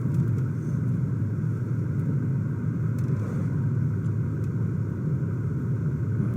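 A car drives steadily in Vampire the Masquerade Coteries of New York, a constant low engine rumble with road noise holding at an even level throughout, with no speech.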